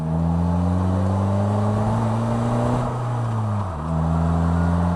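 Polaris Slingshot three-wheeler engine revving steadily while driving, a loud close drone with rising pitch that dips briefly as the throttle changes, then climbs again.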